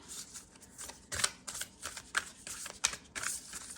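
Tarot cards shuffled by hand, a run of soft riffling and flicking bursts with sharper slaps, close and fairly quiet, with no voices.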